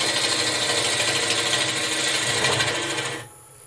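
A wood lathe spinning a goblet blank while a tool cuts, a dense continuous whirring rasp that runs steadily for about three seconds and then drops away abruptly, no talking.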